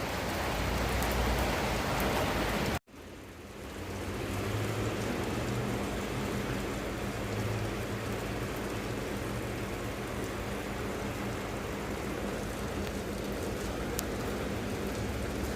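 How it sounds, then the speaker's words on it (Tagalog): Heavy rain pours steadily, a dense broadband hiss with a brief cut near the start, then continuous and loud without any talk. "lumalakas na yung ulan"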